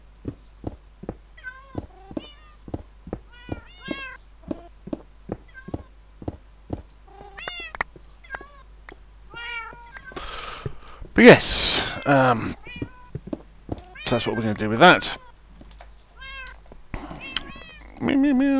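Minecraft cats meow in a rapid series of short, high, repeated calls that gradually build into louder, longer yowls, with a person talking briefly near the end.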